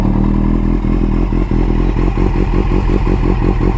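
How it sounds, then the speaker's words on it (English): A Kawasaki Z800 motorcycle fitted with a LeoVince exhaust runs loud and close, a dense throaty drone broken by steady, rapid pulsing throughout. "Let's hear the exhaust."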